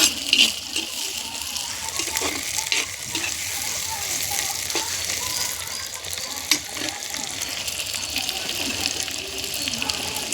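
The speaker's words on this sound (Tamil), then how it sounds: "பச்சை மிளகாவும் அது கூடயே போட்டுக்கிறேன். போட்டுட்டு இவங்களுக்குலாம் சோர்ந்து போகிற அளவுக்கு வதக்குன்னு வதக்கணுங்க" Green chillies sauté in hot oil for a Tamil fish curry, a steady bright sizzle running throughout with occasional stirring scrapes and clicks, fairly close and even in loudness.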